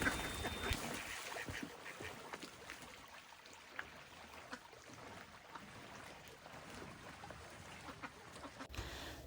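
Ducks quack faintly on a vegetable farm, scattered calls barely rising above a steady wash of outdoor background noise.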